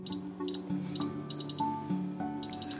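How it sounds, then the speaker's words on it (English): Electronic lock keypad on a door, woken and keyed with an ID and code, gives a series of short, bright beeps in irregular clusters of one and two, close and clear over a faint low hum. "Press any key to wake the display, enter a valid ID and code"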